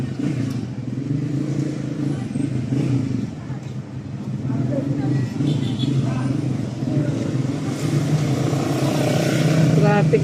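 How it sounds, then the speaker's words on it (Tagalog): Street traffic in the Philippines near a supermarket, a steady broadband rumble of car and motorcycle engines close by, continuous throughout with voices talking over it. "Traffic na."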